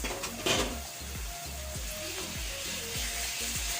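Minced meat hitting a pan of frying onions and whole red chillies, sizzling steadily with a brief louder burst near the start and continuous frying crackle throughout.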